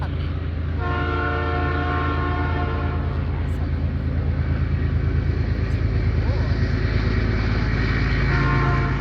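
A train rumbles past nearby in a steady, continuous roar with a sustained horn tone layered over it, while a person talks underneath.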